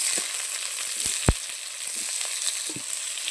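Eggplant pieces fry in oil in a wok, giving a steady close sizzle with crackling throughout and one sharp clack of a utensil partway through.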